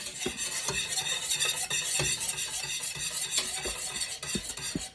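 Lemon curd thickening in a bowl as a whisk works through it, a steady run of rapid scraping, clinking strokes close by, busy and fairly loud with no talk.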